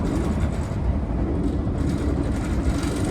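Southbound Caltrain limited stop train #412 from South San Francisco heard from onboard while riding, a steady low rumble of wheels and carriage noise with faint hiss, continuous and without talk.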